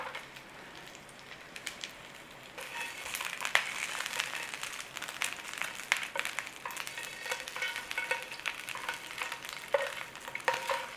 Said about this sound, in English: So we're going to start them off and we're going to put the bacon in.